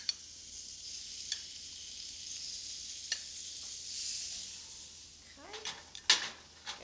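Red skin potatoes sizzling on a hot grill, a steady soft hiss with a few sharp taps and clatters of tongs near the end.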